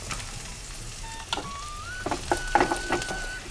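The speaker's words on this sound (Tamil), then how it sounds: "வெங்காயம் ஓரளவு வதங்கட்டும்" Onions sizzle and crackle in hot oil for an Udupi-style vegetable kurma, a steady frying hiss with scattered pops and a few stirring clinks.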